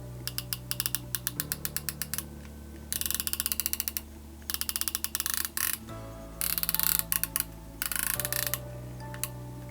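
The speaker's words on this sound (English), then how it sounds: "Maybe we can hear the clicks." Sharp, crisp clicks from the target turrets of a Sightron S TAC 4-20x50 rifle scope, turned in quick rapid runs separated by short pauses, close and distinct, with no one talking.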